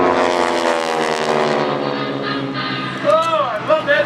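Warbird propeller aircraft fly formation aerobatics at an airshow, a loud droning engine roar sweeping past overhead and fading, while a commentator speaks over it and the pitch shifts near the end.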